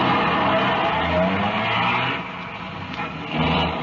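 Radio drama effect of police cars pulling out of a garage at night: engines roar and tires squeal and skid close by, the noise dipping briefly before surging again.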